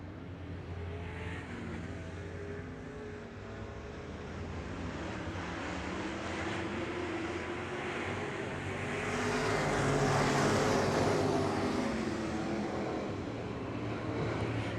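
Street stock race cars roaring around the track at PIR, a dense engine drone that swells and fades as the pack passes, loud and continuous with no talk.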